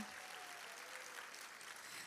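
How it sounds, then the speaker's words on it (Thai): Audience applause at a motivational talk, a steady wash of clapping held at a quiet, even level throughout, with no voices over it. "ปรบมือกับสี่ท่านด้วยค่ะวันนี้ค่ะ"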